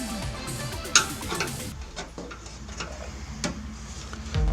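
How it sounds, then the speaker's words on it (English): A flathead screwdriver pries headlight bushings out of a Miata, with close scraping and small metallic clicks and one sharp pop early on. "using a flathead screwdriver and see if I can just get them to pop right out"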